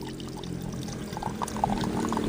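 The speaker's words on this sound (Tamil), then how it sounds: "சரி மேலே ஊற்றிக்கலாம் தண்ணியை" Water pours steadily in a continuous splashing stream while cooking aara keerai koottu (greens curry), with faint bubbling trickles throughout.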